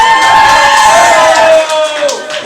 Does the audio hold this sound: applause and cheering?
yes